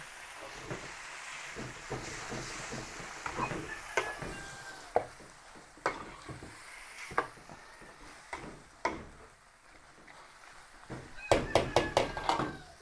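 A spoon or utensil stirs food in a cooking pan, giving a series of soft taps and scrapes at irregular intervals, with a quick cluster of sharper knocks near the end, all quiet and close.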